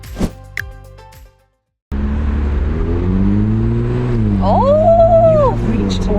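A Ferrari 296 GTS with its hardtop folded open drives along, its engine a loud, steady drone that rises in pitch partway through, following a brief quiet gap at the start.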